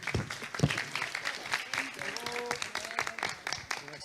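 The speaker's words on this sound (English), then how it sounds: "And applause" An audience at a conference session applauds with brisk, scattered clapping, while voices talk over it for the few seconds it lasts.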